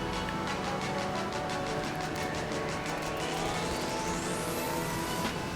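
Engine of a hard-handling car in a racing video game, revving continuously with a rising whine that climbs in pitch toward the end, steady and fairly loud with no talk.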